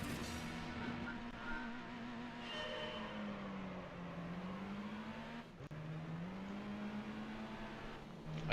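A turbocharged American car in Gran Turismo 3 accelerating, its engine a steady droning hum that rises and dips as it shifts, with a brief dropout midway before climbing again, heard alone.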